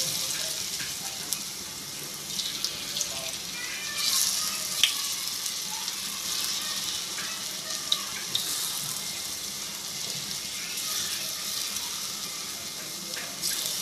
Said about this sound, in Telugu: ఇప్పుడు అవే నూనెలో వేపుతున్నారు.